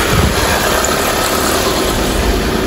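A cold car engine idles at slightly high RPM with a steady, continuous rumble, loud and close, holding an even level throughout.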